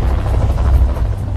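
A rescue helicopter hovers low over the water, its loud, heavy rotor rumble and throbbing wash filling the brief moment steadily and up close.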